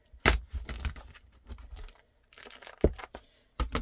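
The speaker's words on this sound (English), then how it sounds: "I trim them off with scissors." Scissors snip and crinkle through clear vinyl pieces being trimmed for a sewing project, a few sharp close cuts with short pauses between them.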